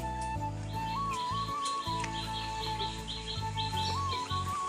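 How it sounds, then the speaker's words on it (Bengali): Birds chirp and call in a pigeon loft in the morning, a clear whistled note rising and falling over a steady low hum, with repeated tweets throughout. "কবুতর এখন ছাড়বো, যেহেতু এখন সকাল 9টা বাজে"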